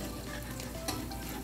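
Onion and garlic sautéing in oil for pancit guisado, a soft, steady sizzle heard close with a brief stirring clink near the middle.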